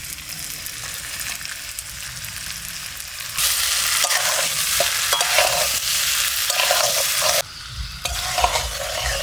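Jackfruit sautéing with previously fried shrimp in a pan: a loud, continuous sizzle broken by scraping stirs, growing busier midway and briefly easing near the end.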